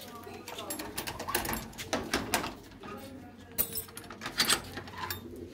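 Pigeons kept in a loft coo softly among scattered knocks and rustles, with people talking nearby over a busy, moderately quiet background.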